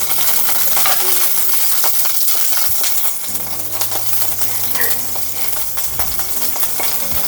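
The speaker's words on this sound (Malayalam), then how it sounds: "അപ്പോൾ ഇനി ഇതിലേക്ക് നമുക്ക് ഇടുന്നത് പച്ചമുളക് ചെറുതായിട്ട് അരിഞ്ഞത്" Chopped green chillies sizzle and crackle in a hot pan as they fry, a steady close hiss running through the whole stretch with a few light clinks and scrapes, no voices.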